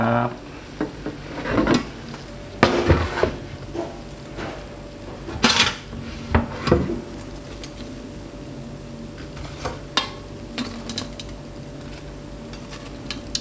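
Knife chopping grilled pork on a board, irregular sharp cuts and knocks close by, with occasional clinks of kitchen utensils and no talking.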